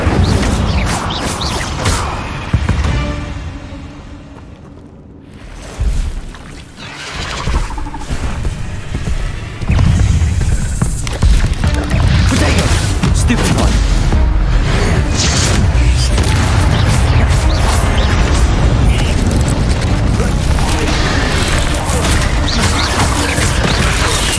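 Incendio fire spell cast in the Hogwarts Legacy video game, a loud roaring whoosh of flame mixed with booming impacts and crashing effects, dense and sustained over a busy combat soundscape.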